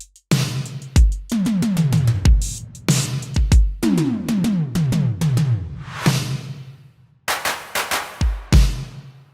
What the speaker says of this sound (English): This was done in the drum machine exclusively